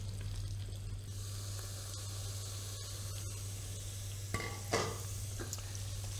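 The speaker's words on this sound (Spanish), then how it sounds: "tenemos el aceite de oliva ya caliente y lo que hacemos es simplemente freír los jarretes." Lamb shanks fry in hot olive oil with a steady soft sizzle throughout, a few clinks and stirring bursts near the end, heard close and fairly quiet with no talking.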